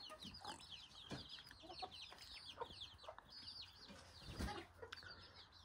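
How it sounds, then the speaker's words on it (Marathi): An egg-laying hen clucking in a yard, a string of soft repeated clucks and squawky calls at close range, fairly faint, with other fowl and some rustling knocks around. "हा ही कोंबडी अंडी देते बघा."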